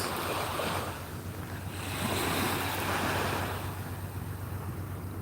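Ocean surf rolls in a continuous roar, waves washing in and out with some wind noise on the microphone and no voices.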